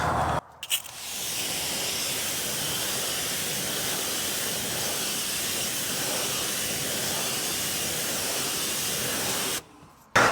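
A water spray rinses brake-dust-covered car wheels with a loud, continuous hiss that runs almost without a break and stops briefly near the start and at the end.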